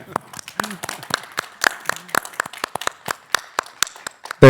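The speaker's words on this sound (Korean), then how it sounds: "박수 한번 거꾸로 보내주십시오." Scattered hand clapping at a formal meeting of university presidents and education ministry officials, with sparse, uneven claps from a small group and a few quiet voices underneath, ending in a brief loud noise.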